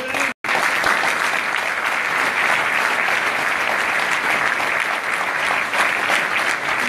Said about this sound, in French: Je vous invite à accueillir sous vos applaudissements